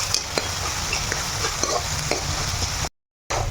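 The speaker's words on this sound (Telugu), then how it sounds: "ఇవన్నీ బాగా వేగాలి ఇప్పుడు మంచిగా" Green chili, ginger and curry leaves fry in hot oil with a steady, close sizzle, and a few sharp stirring clicks break through. The sound cuts out briefly near the end, then resumes.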